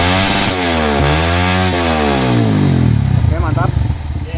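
A bored-up Honda CRF 150 motorcycle engine revs up to full throttle, its pitch climbing and falling in sweeping rises before settling into a rough, loud, close-up roar with sputtering at the end.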